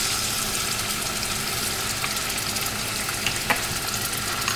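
Spices sizzling in hot olive oil make a steady, fairly loud frying crackle with a few faint clicks and stirring sounds, and no one speaks.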